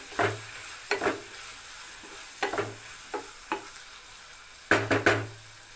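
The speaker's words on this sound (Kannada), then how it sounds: "ಇದಕ್ಕೆ ಇದೇ ಮಸಾಲೆಯಲ್ಲಿ ಇನ್ನೂ ಸ್ವಲ್ಪ ಇದೇ ಎಣ್ಣೆಯಲ್ಲಿ ಫ್ರೈ ಆಗಲಿ" Ivy gourd in chilli-flake masala frying in oil, a soft sizzle punctuated by several distinct stirring scrapes of a spoon against the pan, spaced irregularly with a quick cluster near the end.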